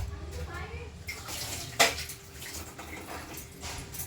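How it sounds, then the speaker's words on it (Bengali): Running tap water splashes over hands being washed in a home kitchen while fish is prepared for frying, a steady, fairly quiet wash with one brief louder splash partway through. "আর দাঁড়ো হাতটা ধুয়ে নিই"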